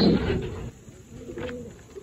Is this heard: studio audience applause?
no